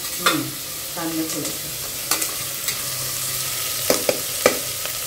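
Onion fries in a pan as the base for a mutton masala, with a quiet steady sizzle broken by sharp scrapes and clinks of a spoon stirring at irregular moments.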